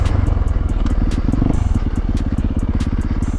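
Yamaha YZ450F dirt bike ridden on a track near a forest, its engine note pulsing steadily and loud throughout with rapid firing rhythm and some clatter, close to the rider.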